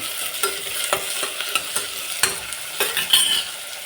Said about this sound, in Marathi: हलवून घेऊ.